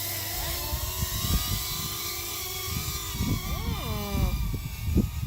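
The motors of an FPV quad drone in acro mode, powered by a GoldBat 850mAh 75C battery, whine and buzz at takeoff, their pitch sweeping up and down at moderate distance, alongside some low thumps.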